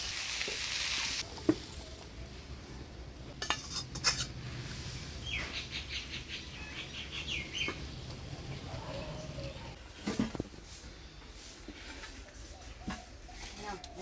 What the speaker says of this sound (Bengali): ঢেঁকি শাক দিয়ে আলু দিয়ে ভাজছি।